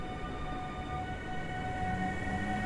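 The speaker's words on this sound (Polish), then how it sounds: "EU160-005 z Intercity Warta." The EU160-005 locomotive hauling the Intercity Warta train rolls by at night, a steady rumbling roar of wheels and passing carriages.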